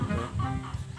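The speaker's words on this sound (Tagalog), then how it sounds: "Na manok, oh. Manok, oh." Chickens cluck close by on a farm, with several short irregular bursts of clucking running through the whole second.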